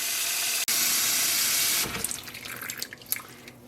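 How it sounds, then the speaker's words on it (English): Running water pours steadily into a sink as dyed merino-alpaca yarn is rinsed of soap, a loud continuous gush that is briefly interrupted, then breaks into softer splashing and dripping as the flow eases. "But now we can finish rinsing out the soap."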